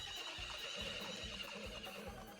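A horse neighing in the Harvest Moon: Friends of Mineral Town video game, a clear whinny over rhythmic clip-clop hoofbeats.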